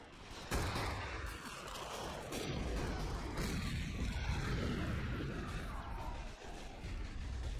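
Artillery fires at an anti-tank gun in the WWII strategy game Assault Squad 2, set in Berlin's suburbs in 1945: a heavy boom opens, followed by a sustained roar of battle noise and rumbling explosions.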